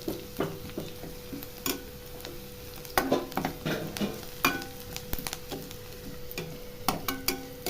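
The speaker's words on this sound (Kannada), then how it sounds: "ಇವಾಗ ಈರುಳ್ಳಿ ಬ್ರೌನ್ ಕಲರ್ ಬಂದಿದೆ ನಾನಿವಾಗ ಸೊಪ್ಪನ್ನು ಹಾಕ್ಕೊತಾ ಇದ್ದೀನಿ" Greens being stirred into browned onions frying in a pan for a dantu soppu palya, with steady close sizzling and repeated scraping stir strokes and light clicks of a spatula against the pan.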